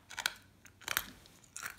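Frozen vodka ice cubes are bitten and chewed up close, three distinct crunchy bursts spaced about half a second apart in an otherwise quiet room.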